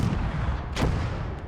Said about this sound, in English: My cannons hitting trees and buildings alike